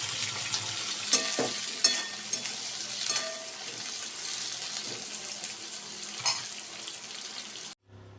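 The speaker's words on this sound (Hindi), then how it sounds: "थोड़ा सा तेल डाल के और भट्टे तल लिए हैं, तलूँगी" Long-cut corn pieces frying in a little oil in a home kitchen, giving a continuous close sizzle with occasional louder crackles and stirring clatter, no voices, before it cuts off abruptly.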